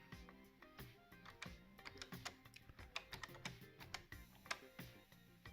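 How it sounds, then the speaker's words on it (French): Fingers typing a username on a French Minitel terminal keyboard, a steady run of close, crisp key clicks in uneven bursts, each press distinct, with no voices. "Donc là par exemple je tape mon pseudo."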